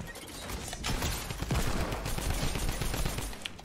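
Gunfire aimed at the player in a battle-royale shooter game, a dense burst of loud, close shots in a fast, uneven rhythm.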